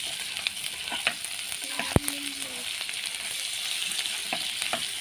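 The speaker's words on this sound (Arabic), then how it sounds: "هنبدا ننزل بالقوانص. نبدا نقلبها مع البصل" Chicken gizzards frying in a pan with softened onion and garlic, a steady broadband sizzle with scattered crackles and a few scraping stirs, close and continuous.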